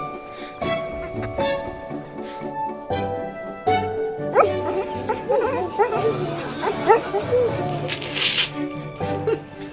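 A springer spaniel gives a few short, yappy barks and whimpers indoors near a spinning chair, mixed in with people talking and laughing around it.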